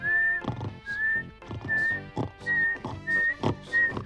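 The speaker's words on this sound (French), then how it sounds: "Je vais essayer le coup du sifflet" A bright, steady whistled tone repeats about six times in short bursts, each paired with a sleeping person's snoring breaths in a regular back-and-forth rhythm.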